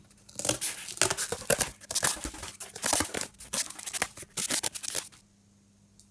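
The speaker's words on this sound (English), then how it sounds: "Then again, cut this using scissors." Crisp snipping and crinkling of scissors cutting through card, a dense run of close cuts and rustles that stops abruptly near the end.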